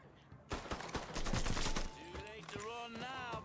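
Rapid bursts of automatic gunfire in the video game Mafia III, loud and dense up front, then thinning into scattered shots under someone talking over the action.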